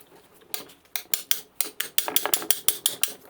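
A hammer strikes metal repeatedly on the lower ball joint of a 2005-2007 Jeep Liberty at a workbench. Sharp, ringing blows come close and loud, at first irregular and then in a quicker, steady run of about a dozen hits.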